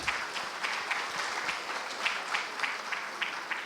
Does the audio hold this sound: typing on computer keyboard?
no